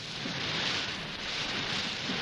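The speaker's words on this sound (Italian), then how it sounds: "Pioveva a dirotto" Heavy rain pours down steadily as an effect in a reading of the Pinocchio story, a dense, even hiss that holds for the whole stretch with no voices over it.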